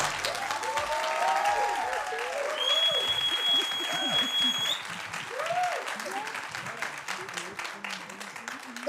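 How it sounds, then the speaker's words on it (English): Audience applause after a Juneteenth celebration presentation, dense sustained clapping from a large crowd with a few cheers and voices mixed in, holding steady before easing slightly. "Give them another round of applause."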